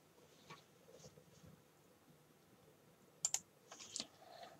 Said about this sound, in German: dass das Klicken noch euch auf den Keks gehen wird